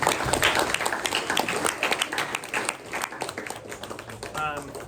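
Applause from an audience at a press luncheon, a steady patter of many hands clapping alongside overlapping talk and crowd murmur, fairly close and moderately loud.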